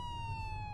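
A faint ambulance siren on empty streets holds a single steady, slightly falling wail for under a second, with no talking.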